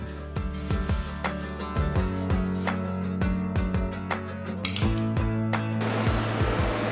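A hot air blower roars steadily against a polystyrene foam tower, a loud continuous whoosh with a constant hum and some clicking throughout.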